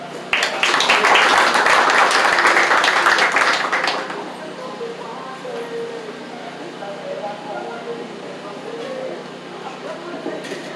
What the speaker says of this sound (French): Je vous demande de vous applaudir vous-même.